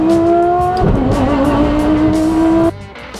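A turbocharged five-rotor car roars loudly on dyno rollers, holding a sustained high-pitched engine drone that climbs and then cuts off abruptly near the end.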